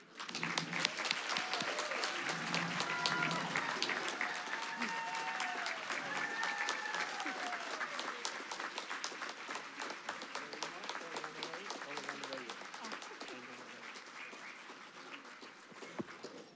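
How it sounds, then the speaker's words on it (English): Audience applause following a keynote talk, a dense, steady wash of clapping that fills the room from start to finish and eases only slightly toward the end. "Let's give her another round of applause"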